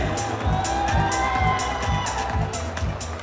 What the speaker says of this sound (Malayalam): നമ്മുടെ പ്രിയപ്പെട്ട സെന്തിലിനെയാണ് ഞാൻ വിളിക്കുന്നത് നല്ലൊരു കൈയടി